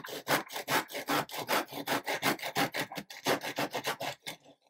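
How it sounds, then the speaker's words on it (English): A piece of fine timber is hand-sawn straight through in a fast, even run of rasping back-and-forth strokes, close and loud, with a brief pause near the end before the cut finishes. "So what we do is we literally cut it through and then we can just snap it off."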